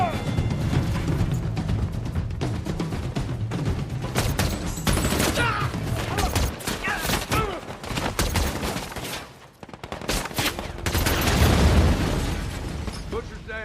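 Gunfire from an Iraq firefight scene in the film American Sniper, with dense bursts of rifle and machine-gun shots and booming blasts that go on without a break, loud and close.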